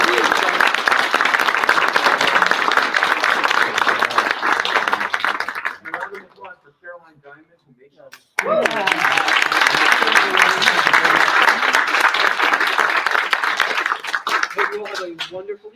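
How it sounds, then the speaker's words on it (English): Applause from the audience at an honor society induction ceremony, dense sustained clapping that fades and briefly drops away, then surges back at full strength and continues to the end. "We have one more round of applause for all of our inductees."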